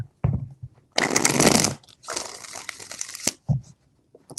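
Tarot cards shuffled close by in two sustained riffling bursts with a few softer taps and slides between them, loud and clear with no voices.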